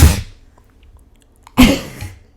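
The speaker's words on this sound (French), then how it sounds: "Je viens réellement d'éternuer sur mon micro ASMR." Two sharp sneezes right into a close ASMR microphone, the first at the very start and the second loud and breathy after a brief quiet pause, each with a quick fading tail.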